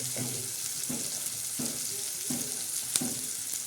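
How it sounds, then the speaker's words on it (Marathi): Tempering of chili powder, turmeric and salt sizzles as it is sautéed in a pan for a moong dal dish with green chilies, onion, coriander and tomatoes, with a steady frying hiss and soft rhythmic stirring scrapes, no talk. "आता छान असं परतून घ्यायचं छान असं तडका दिला परतला"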